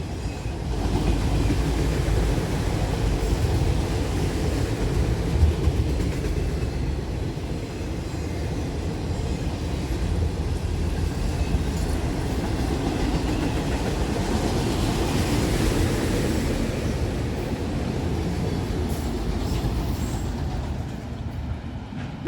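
A CSX freight train rolls past on the rail near Boughtonville and Greenwich, a steady, loud rumble of wheels and cars with faint clickety-clack that holds without letup throughout, no voices over it.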